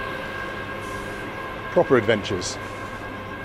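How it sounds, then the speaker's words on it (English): An old Hungarian communist-era train rolls along with its windows open, giving a steady, close rumble with faint tonal hum throughout, while a voice speaks briefly in the middle. "old Hungarian communist train that's going to take us to the border town of Zahony"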